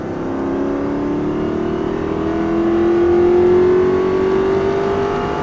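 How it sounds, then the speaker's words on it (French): A car on a race track accelerates hard, its engine note climbing steadily in pitch through the gears, loud and close, growing in intensity with no talk over it. "Allez, franchement, écrase l'accélérateur."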